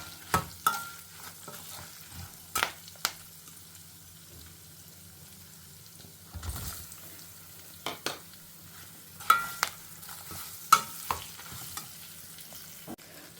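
Ridge gourd being sautéed in a pan, with dal and asafoetida already frying: a soft, steady sizzle under intermittent sharp spatula scrapes and taps against the pan. No one speaks.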